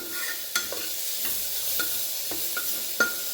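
A carrot and pea pulao vegetable mixture sautéing in a pan with sambar masala, a steady close sizzle broken by several sharp scrapes and knocks of a spoon stirring.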